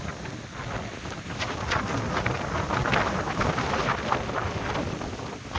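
Strong, gusty wind ahead of rain buffets the microphone in open, dusty country, producing a continuous rough roar with no voices.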